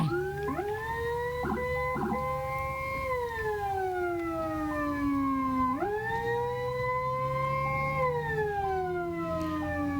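An ambulance siren on a city road sounds loud and close, a continuous rising and falling wail with short stepped pitch changes, steady for the whole stretch and heard alone with no talking.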